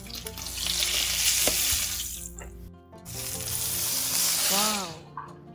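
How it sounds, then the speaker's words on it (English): Salmon patties wrapped in fish skin fry in a pan over medium-low heat, giving a steady loud sizzle with brief clinks and a short break partway through, heard alone without talk. "So 2 times I'm gonna fry each side, but be careful, don't burn the skin and never cover with lid during frying burger,"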